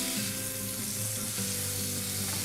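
Grated onion, two onions' worth, fries in a pan for dum aloo, a soft continuous sizzle with faint stirring beneath, no talk.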